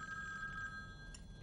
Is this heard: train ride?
no